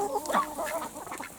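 Ducks on a smallholding quack in a short burst of several nasal calls, fairly close and alone, with no other sound over them.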